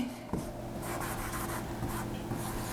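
Chalk or marker scratches steadily across a classroom board, a close, continuous rubbing stroke with short breaks between letters, heard alone without talk.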